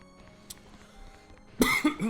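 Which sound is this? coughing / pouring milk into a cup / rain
coughing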